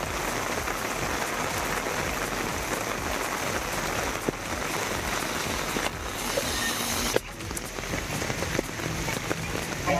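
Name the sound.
heavy summer rain in Tamil Nadu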